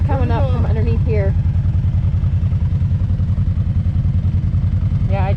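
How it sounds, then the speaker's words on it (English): A Can-Am Maverick Trail side-by-side engine idles steadily and loudly throughout, a low continuous rumble on a desert trail while a voice talks over it near the start and end. "Shut your engine off."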